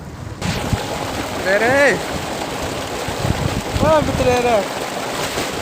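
Water flows steadily into farm fields with a continuous rushing wash running throughout, while a voice calls out loudly over it a couple of times.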